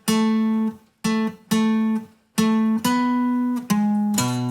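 Electric guitar plays a short melodic riff of sustained notes separated by brief gaps, each note ringing out clearly before the next.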